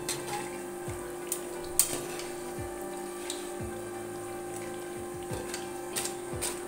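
Potato pakoras fry in a pan of hot oil with a steady, close sizzling hiss and a few sharp crackles and pops scattered throughout, with no talking.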